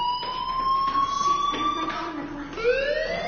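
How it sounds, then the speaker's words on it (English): An electronic fire alarm wails in the Life Is Strange video game, a continuous rising and falling tone over a busy background. "do you hear that fire alarm? That means you should be outside."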